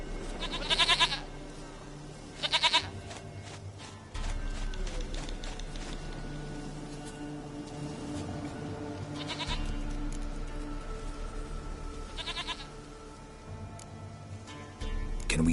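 A goat in The Witcher 3: Wild Hunt bleats several times in short, nasal bursts, spaced a few seconds apart over a low ambient game backdrop, with no one speaking.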